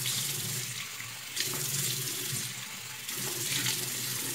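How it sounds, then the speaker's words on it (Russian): Running tap water as a face is rinsed after washing with a konjac sponge, a steady close splashing stream with brief surges, with no talking. "Помыли и смываем свое лицо."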